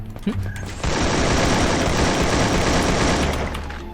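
Sustained machine-gun fire in the battle royale game Free Fire during a ranked 4v4 match, a loud close burst that starts after a few scattered sounds and rattles on steadily to the end.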